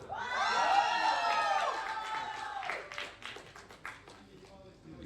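Crowd at a winter live street-music concert cheering and whooping loudly. The shouting fades into scattered claps and calls over several seconds.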